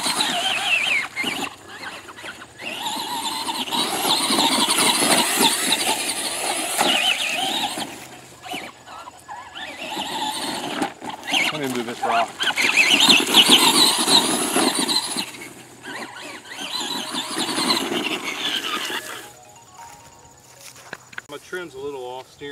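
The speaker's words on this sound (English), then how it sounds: "it runs pretty good for being just a 12-turn brushed motor." A Traxxas Bigfoot RC monster truck with a 12-turn brushed motor whines and revs in long, surging waves outdoors, pitch rising and falling as it accelerates, with a person talking over parts of it.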